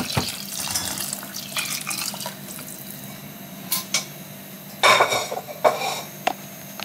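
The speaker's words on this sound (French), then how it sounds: "Je prépare 590 g d'eau que je verse dans le monsieur cuisine" Water is poured from a tap or container into a Monsieur Cuisine food processor, a running splash with intermittent louder gushes and clinks of kitchenware toward the end, no talking.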